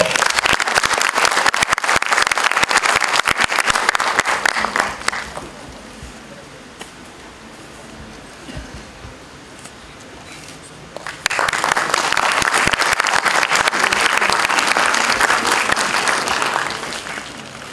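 Two loud bursts of audience applause at an inauguration ceremony for a mediation centre, the first lasting about five seconds, a quieter pause of room noise between, then a second sustained round of clapping.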